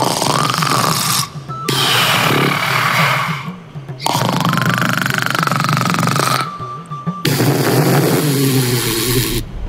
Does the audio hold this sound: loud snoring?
yes